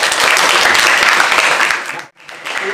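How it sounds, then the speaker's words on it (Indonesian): A classroom of students claps together during an arts lesson, with loud, close, dense applause that briefly drops out and then picks up again. "Tepuk tangan untuk semuanya."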